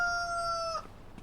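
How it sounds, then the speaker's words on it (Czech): Chickens in a farming video game, a single bright sustained fowl call lasting under a second, close and clear, then quiet background. "Tak, máme tu slepičky."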